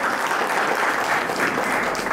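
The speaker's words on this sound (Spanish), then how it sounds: "un aplauso para el compañero" Audience at a political culture symposium applauding steadily, a dense even wash of clapping from many hands throughout, fairly loud and close, with no voices over it.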